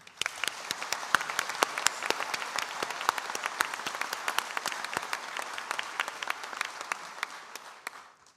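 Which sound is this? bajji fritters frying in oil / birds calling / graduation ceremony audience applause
graduation ceremony audience applause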